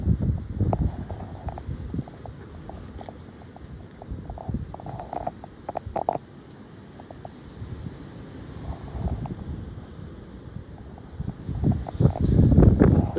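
Strong gusts blow through a flowering tree in high winds, rushing and buffeting continuously at close range with heavy low rumbling microphone wind noise that surges louder near the end.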